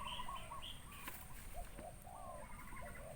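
A spotted dove coos in short, repeated phrases out in open rice fields, set against steady outdoor background noise, with a faint chirp and a brief wing flutter nearby.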